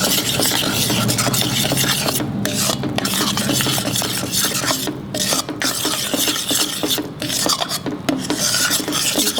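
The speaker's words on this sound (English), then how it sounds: "Add puree of 2 tomatoes. Keep stirring." Tomato puree being stirred steadily in a hot pan for a mutton kofta curry: continuous loud scraping and rasping of a spoon against the pan, with a sizzling undertone and brief pauses.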